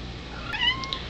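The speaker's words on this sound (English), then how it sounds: "These are my kittens. They were just born about 2 weeks ago." Tiny two-week-old black kittens give a few thin, high meows close by, faint against a soft background hiss, with no talking.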